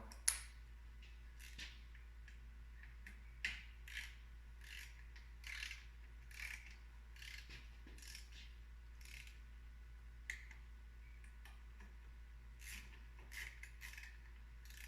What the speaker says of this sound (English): I'm just going to jump back and forth with the torque wrench